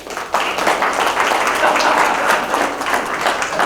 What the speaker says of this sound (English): Can everyone please give my co-speaker Fred a nice round of applause?